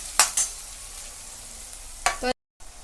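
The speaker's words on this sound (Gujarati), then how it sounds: "આને હવે આપણે મીડિયમ ગેસ ઉપર ધીમે ધીમે જ્યાં સુધી આનો કલર ચેન્જ ના થાય બ્રાઉન ત્યાં સુધી આને શેકાવા દઈશું" Mashed eggplant bharta mixture roasts in a pan over a medium gas flame, a soft steady sizzle punctuated by a few sharp spatula scrapes near the start and end.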